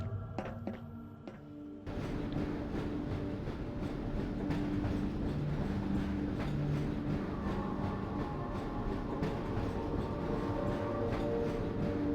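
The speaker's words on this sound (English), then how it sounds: "I can't remember how long this train ride goes for, but I think it's quite a bit." Steady rumble and rhythmic clatter of a train ride inside the video game Half-Life, beginning after a quieter opening of about two seconds and then running continuously and loud, with layered mechanical hum and occasional thunks.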